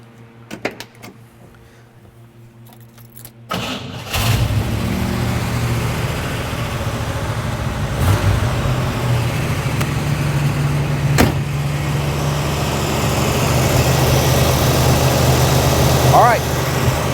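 A 1967 Chevelle SS 396 with a 4-speed cranks briefly and fires up near the four-second mark, then settles into a steady, loud, lumpy idle that continues to the end, with a couple of sharp clunks along the way.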